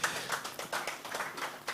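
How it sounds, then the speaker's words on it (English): Scattered clapping from a small audience at a business mobile banking app launch, a handful of hands striking in an uneven rhythm for under two seconds, moderately near with no voices over it. "A round of applause, please."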